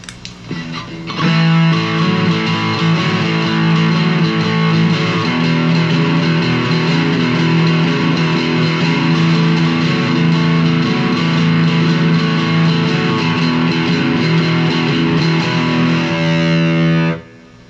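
Electric guitar played through an orange Boss DS1 distortion pedal, a sustained, heavily saturated chord ringing steadily for about fifteen seconds, loud and close, with no talk.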